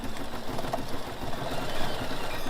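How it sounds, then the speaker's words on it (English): A BERNINA embroidery machine stitches out a design in a shop, giving a steady, fast mechanical whir and patter that runs continuously at moderate level with no talking. "This is going to stitch out"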